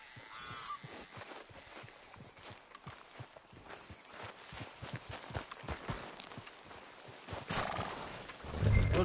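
A horse in Red Dead Redemption 2 walks with rhythmic hoof clops on the ground, with an occasional snort or whinny in a quiet outdoor setting and a louder thump at the very end.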